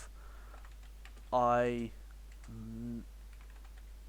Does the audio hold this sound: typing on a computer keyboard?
yes